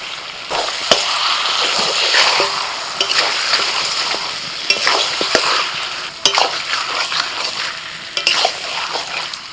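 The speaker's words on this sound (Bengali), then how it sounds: "ধনে গুঁড়ো, কাশ্মীরি লঙ্কার গুঁড়ো, অল্প করে হলুদ গুঁড়ো, এবার দিয়ে দিচ্ছি কাঁচা লঙ্কা বাটা।" Ground coriander, Kashmiri chili powder, turmeric and green chili paste sizzle steadily in a pan, with repeated scraping stirs and occasional sharp utensil knocks throughout, close and fairly loud, no voices.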